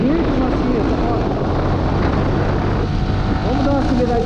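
A Yamaha R15 V3 motorcycle with added accessories rides on the street. Its engine drones loudly under heavy wind rush, then climbs in pitch as it is revved near the end.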